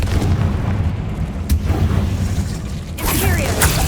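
A Confringo fire spell blast in Hogwarts Legacy, a loud booming burst with a sharp crack, followed by a second bright explosive crackle, set against rumbling game combat noise.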